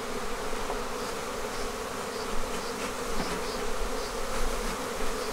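Honey bees buzz in a dense, continuous drone while two beehives are combined into one bee barn, the swarm close and steady with slight swells in loudness and no voices.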